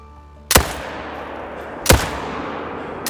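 Hansen 30-06 rifle fired in a hunting game, three sharp, loud single shots spaced over a second apart, each cracking and then trailing off in a rolling echo, with no talk.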